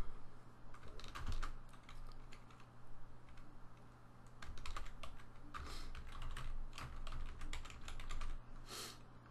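Code being typed on a computer keyboard: clusters of quick, close key clicks arrive in irregular bursts with short pauses between them, over a steady low electrical hum.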